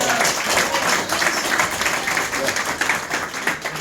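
Crowd applause at an outdoor community Diwali celebration on Liberty Avenue in Little Guyana, a dense, steady wash of clapping filling the whole moment without pause, with some voices mixed in.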